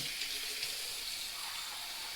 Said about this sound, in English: I'll put hot water in this one